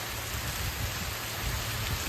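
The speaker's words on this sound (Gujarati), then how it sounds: "એમ વરસાદ થયો ચાલુ" Heavy rain pours steadily, loud and close, a constant rushing patter on surfaces throughout.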